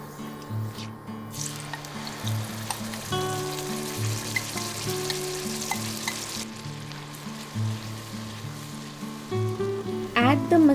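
Masala paste fries in oil and a spoonful of ghee for a Bengali stuffed pointed gourd dish, a steady close sizzle with clinks of stirring throughout and a sharper scrape near the end.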